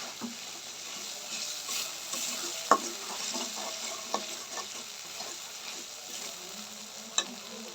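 Spice paste fries in oil for prawn malai curry while being stirred, a soft sizzling crackle broken by a few sharp clinks and scrapes of a spoon against the pan, nearby and without voices.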